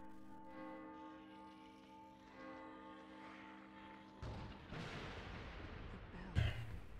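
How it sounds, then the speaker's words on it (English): A bell rings in the horror video game The Evil Within, with a sustained, faint, resonant tone hanging in the background before heavier rumbling noise and a dull thump take over. "The bell."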